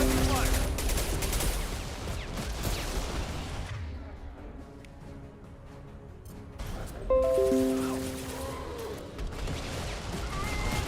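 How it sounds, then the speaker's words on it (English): Gunfire in the video game Mass Effect 2, dense bursts of shots and impacts up close, easing to a quieter stretch before heavy firing resumes alongside game speech. "Hostiles up ahead! Taking heavy fire!"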